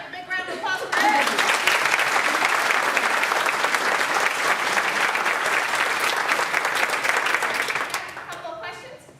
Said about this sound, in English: Let's first have a big round of applause for Erik.